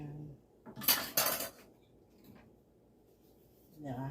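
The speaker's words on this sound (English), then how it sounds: "Mix this up some, get it off of my spoon." A metal spoon clinks and scrapes against a bowl of water mixed with honey for homemade pizza dough, a short burst of close clattering followed by quieter taps and a faint voice.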